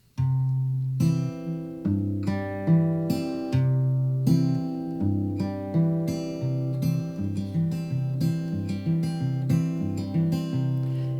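A full fingerpicking pattern on acoustic guitar, thumb and fingers plucking a steady, even run of ringing notes for several bars, close and unaccompanied.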